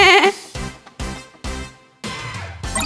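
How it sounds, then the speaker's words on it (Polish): Several loud, wavering bleats from a goat follow one another in quick succession, close and clear, with short pauses between calls. "To jest koza! Tak, to koza! Koza meczy! Me!"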